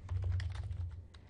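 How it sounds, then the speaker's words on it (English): Fast, light tapping on a computer keyboard, close and quiet, in a brief irregular burst of keystrokes with no talking. "So I'm going to type in"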